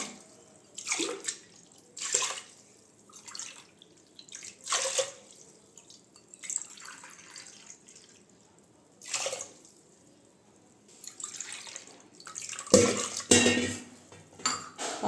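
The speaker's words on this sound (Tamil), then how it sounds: "ஆறு டம்ளர் தண்ணி சேர்த்தாச்சு" Water is poured by tumbler into a metal pot of washed moong dal, six times over, with repeated splashing pours, metallic clinks of the tumbler against the pot, and quiet pauses between additions.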